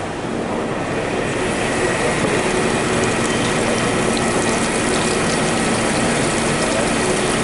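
A TG12x4 micro-size machine tool runs a part with coolant on at a trade show booth, giving a loud continuous mechanical whir with rattling, gear-like chatter that stays steady throughout.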